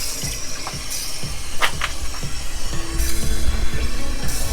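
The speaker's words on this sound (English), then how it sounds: "then we'll put the hose back on and we'll see if it holds" Water from a garden hose runs steadily and fairly loudly close by, a continuous rushing splash with occasional gurgles and spatters, and no talking.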